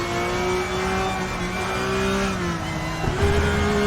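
A car engine revs hard and steadily at high speed on the Nürburgring track, a loud sustained drone with pitch shifting slightly near the end.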